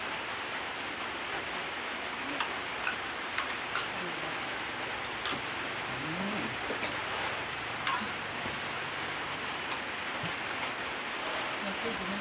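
Rain falling outside, a soft continuous hiss with scattered faint ticks and drips, fairly quiet and steady, with occasional faint background sounds.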